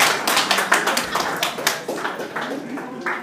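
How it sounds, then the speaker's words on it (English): Scattered hand claps from a small audience at a live Caribbean news talk show, a loose sparse patter rather than full applause, with voices murmuring underneath. "You'll clap for me now."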